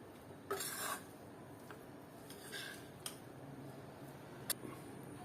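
Rice cooked with fresh methi, stirred with salt in a pan, giving faint, sparse scrapes and light ticks of a utensil against the pan in a quiet kitchen.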